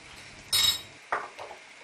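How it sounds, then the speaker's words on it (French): Utensil clinking and scraping against a pan while mixing tomato sauce ingredients with a little added sugar, in two short bursts of metallic clatter with quiet pauses between. "On mélange tout ça."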